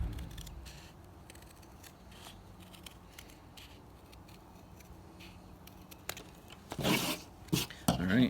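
Scissors cut out a paper boat hull pattern in a quiet room, with faint, scattered snips that grow louder and sharper as a few crisp cuts land near the end.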